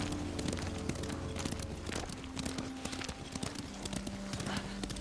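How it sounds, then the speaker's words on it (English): Horse hooves clip-clop steadily as a rider travels in the video game Ghost of Tsushima, a brisk, even walking rhythm of close, distinct hoofbeats over a low ambient background. "Lord Sakai taught me to ride a horse"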